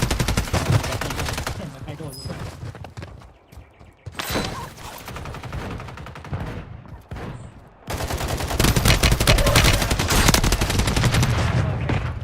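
Reclaimer 18 shotgun blasts in Warzone 3 hit hard in loud bursts of rapid fire, broken by a few quieter pauses, with other gunfire mixed in.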